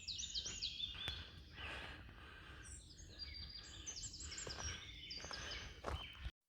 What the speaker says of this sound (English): Lots of bird life.